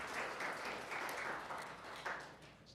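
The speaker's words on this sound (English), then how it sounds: "let's give her a round of applause" Quiet, distant applause from an audience at a Black History event greets a storyteller, a soft patter of clapping in uneven swells over a couple of seconds.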